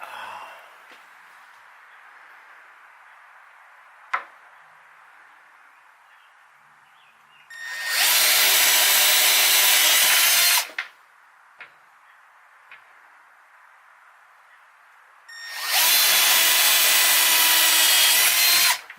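A Milwaukee power drill fitted with metal drill bits bores into material in two loud bursts of about three seconds each, separated by quiet stretches with a few faint knocks and clicks.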